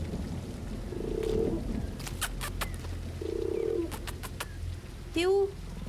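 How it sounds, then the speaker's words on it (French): A pigeon coos softly a few times in the video game The Guest 2, over a low ambient rumble, with some scattered clicks and a brief chirp-like call toward the end. "Il vient d'où ce pigeon là?"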